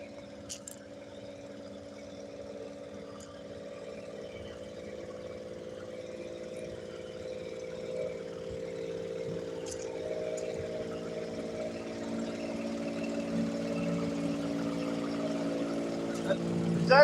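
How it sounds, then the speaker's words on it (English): A truck refrigeration unit runs loudly and steadily, a constant droning engine hum with strong low harmonics that builds slightly in level throughout, with a few faint clicks and no clear talk. "Is that air conditioner that loud?"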